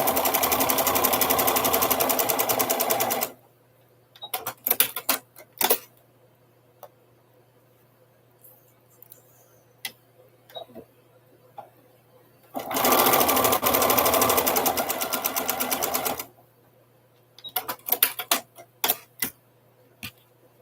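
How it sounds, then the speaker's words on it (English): A Janome 6600P sewing machine runs in two long bursts while stitching quilt pieces for a charm quilt. Between the bursts come short clicks and handling taps over a quiet, low hum. "I am sewing on a Janome"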